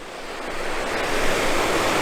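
Strong flowing river, running high and fast from snowmelt, gives a steady, loud, broadband rushing roar that holds evenly throughout with no voices.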